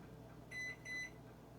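A microwave oven melting butter gives two quick electronic beeps over a faint, steady low hum.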